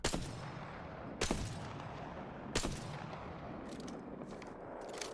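Three sharp, loud gunshots from a semi-automatic sniper rifle in the Apex Legends video game, spaced about a second and a quarter apart with a short echoing tail, then a few faint clicks.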